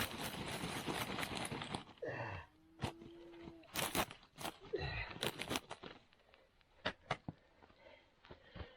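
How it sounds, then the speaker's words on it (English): Burning campfire debris crushed down onto hot coals at a high desert camp, a series of dry crunches, scrapes and crackles close by, coming in irregular bursts with brief pauses. "Grind it right down in there so it's resting right on a bunch of those hot coals"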